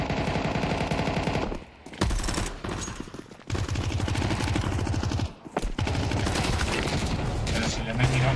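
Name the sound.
gunfire in video game Counter-Strike 2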